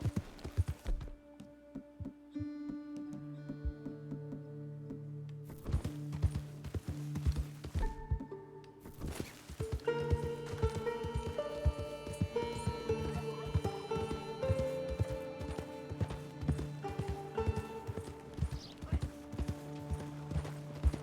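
Horse-drawn cart in the Red Dead Redemption video game, steady clip-clop of hooves with rolling wheel clatter, moderately close and continuous, with a voice speaking faintly in places.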